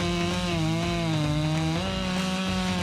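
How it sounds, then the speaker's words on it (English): A chainsaw cuts firewood on a farm, its loud, steady buzzing whine close by, with the engine pitch sagging briefly as the chain bites into the wood. No voices. "With just purchasing this saw, you can see I'm cutting real cautious with it."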